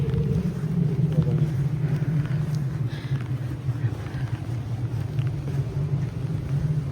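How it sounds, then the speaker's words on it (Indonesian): Strong wind in Japan buffeting a microphone, producing a continuous low roaring rush that swells and eases slightly, alone with no clear speech. "Anginnya udah mulai kenceng banget."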